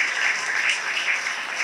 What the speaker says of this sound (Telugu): అందరూ కొట్టండి, చప్పట్లు కొట్టండి,